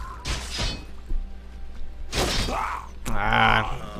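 Storm bolt striking a Warden during a Warcraft III match between human and night elf armies: a crackling impact and shattering burst with whooshes and thuds, loud and layered amid busy game sound.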